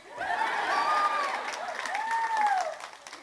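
Audience clapping at an anime masquerade show, a steady patter of applause mixed with crowd noise while voices speak and exclaim over it.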